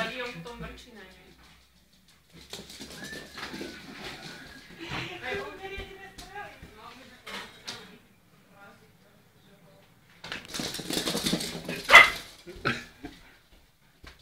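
Two small house dogs bark and yip in a room, with short bursts of barking and whimpering in scattered clusters amid pauses, while people talk nearby.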